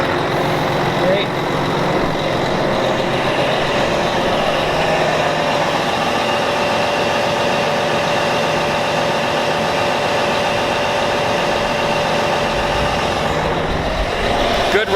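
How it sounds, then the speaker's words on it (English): A 2000 Volvo semi truck sitting with its engine idling, a steady close rumble and whine that runs unbroken throughout, with a faint hiss of air near the end. "Good running truck."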